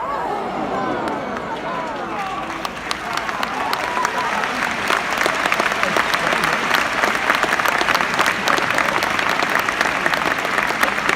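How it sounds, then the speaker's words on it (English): An audience applauds at a Crufts police dog display by West Midlands Police, a loud, dense burst of clapping from a large arena crowd that swells and holds steady. "So a big round of applause to"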